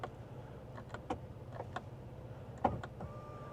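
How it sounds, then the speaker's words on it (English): Power steering column on a 2026 Lincoln Navigator adjusting in and out, giving a faint, low motor whir with a few soft clicks and taps over a quiet cabin hum. "so that is adjusting the steering wheel"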